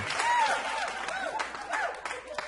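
A studio audience at a comedy quiz show keeps applauding, moderate clapping beneath a voice talking over it.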